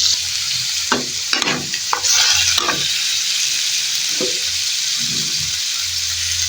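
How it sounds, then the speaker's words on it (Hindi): Minced meat (keema) fries in a pan with a steady, loud sizzle, broken by several scraping stirs in the first three seconds and another near the end. "ये हमारा कीमा है, इसे हमने 3 मिनट के लिए भूनना है"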